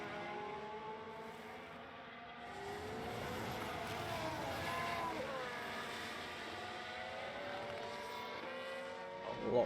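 F1 Manager 22 race cars run on a straight, making a faint, steady high engine whine with rising and falling pitch sweeps as cars pass, a soft continuous drone without talk.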